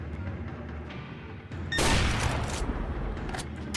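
Gunfire in a shooter video game as a sniper rifle is used: a sudden loud burst crashes in after a quieter stretch of rumbling game ambience and trails off into a sustained noisy wash, with no one talking.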